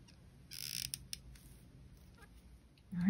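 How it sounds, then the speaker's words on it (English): Unoiled jewelry pliers squeak while wire is wrapped around a cabochon pendant, giving a couple of short, close, high creaks with faint handling noise and a louder rustle at the end. "Sorry about all the squeaking. I think I need to oil my pliers."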